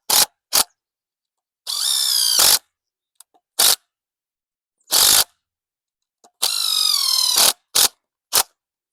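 Cordless drill driving screws into a wooden blackberry trellis built from 4x4 and 2x4 lumber, heard as several short bursts and two longer whirring runs close by, separated by brief silences and small clicks.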